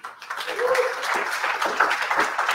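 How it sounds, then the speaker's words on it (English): A live audience claps for a man named Simon at a business talk, a fairly dense spread of applause sustained at steady level for a couple of seconds, with a faint voice briefly audible beneath it. "is there any chance at all you could just give Simon a round of applause"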